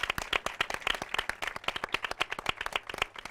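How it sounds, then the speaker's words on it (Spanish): An audience at a talk claps steadily for several seconds, dense overlapping hand claps forming lively applause with no voices on top. "desde aquí quiero mandarle un fuerte aplauso a todos"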